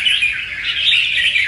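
A songbird from the rocky limestone mountains of Lang Son sings a continuous, bright, high warbling phrase, loud and close, with no voices over it.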